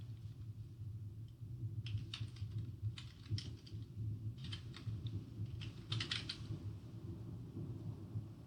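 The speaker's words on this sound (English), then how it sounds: "I'm going to begin by typing his name." A name being typed on a computer keyboard in short bursts of rapid key clicks separated by pauses, moderately close, with a steady low hum from a fan or room noise underneath.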